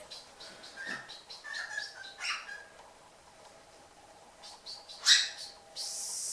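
Small bird chirps and short tweets come at irregular intervals, fairly close but soft, with a brighter, sharper call near the end.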